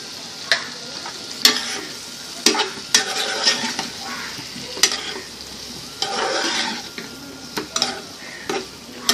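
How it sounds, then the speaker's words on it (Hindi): Baby potatoes for Bombay potatoes fry in a spiced gravy, with a steady sizzle under repeated sharp scrapes and clinks of a spoon stirring against the pan, close and fairly loud, no voices. "अच्छे से कुक करेंगे जब तक सारा ग्रेवी आलू को अच्छे से कोट नहीं हो जाता।"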